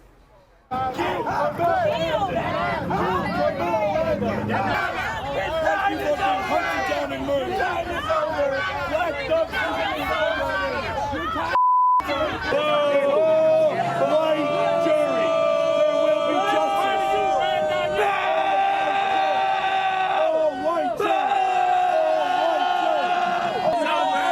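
Rival crowds face off outside a courthouse, a loud and dense mix of shouting, chanting and chatter. It cuts out abruptly for a moment, then the many voices return with rising cheers and calls.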